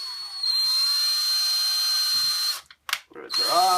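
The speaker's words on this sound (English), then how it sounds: "Drill these rivets off." A high-pitched power drill whines steadily for several seconds, bites and stutters briefly as it drills out metal rivets, then spins up again.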